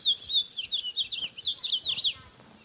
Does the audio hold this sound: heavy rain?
no